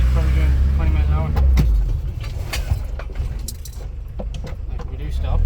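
A car driving slowly through town at around 20 mph, its steady engine and road noise continuous and close throughout, with light rattles and clinks layered over it.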